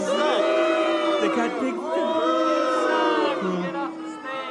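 A comedy-club crowd reacts to a comedian's punchline with a loud, dense swell of overlapping shouts and whoops that lasts throughout, while the comic's voice speaks briefly at the start.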